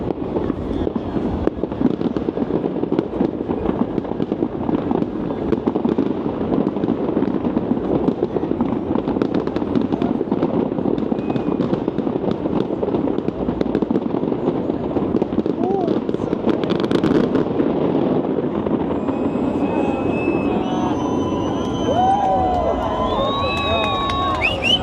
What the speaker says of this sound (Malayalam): എല്ലാ ബിൽഡിങ്ങിൽ നിന്നും അവിടുന്ന് ഇവിടുന്ന് ഒക്കെ ക്രാക്കേഴ്സാണ് ഇപ്പോൾ